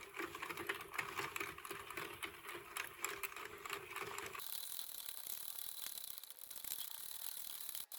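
A Sentro plastic knitting machine bought cheaply from Temu is cranked by hand, giving a steady run of rapid ratcheting clicks that continue throughout, close and moderately loud, with no talking.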